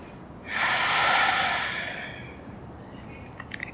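Deep breathing in a yoga class lower-back stretch: a single long, airy breath swells in at half a second and trails off slowly over a couple of seconds, close and alone, with no talk.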